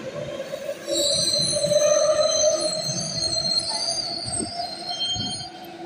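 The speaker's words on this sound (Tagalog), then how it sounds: "Lagi na lang train na sinasakyan ko dito" A passenger train in Athens rolls along the rails with a steady loud rumble and a sustained high metallic wheel squeal that holds throughout, with no talking.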